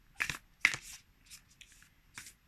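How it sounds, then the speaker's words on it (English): Large, very thick cardstock oracle cards with a smooth, non-glossy finish are shuffled in a few crisp riffling bursts close by, separated by short quiet gaps, with no talking. "This is quite big cards, but it's nice, smooth, pleasant to shuffle."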